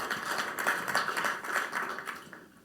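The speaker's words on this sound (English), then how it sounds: "Let's give him a round of applause, everybody." Conference audience at a business breakout session clapping for a guest, a moderately loud patter of hands that swells and eases before tapering off at the end.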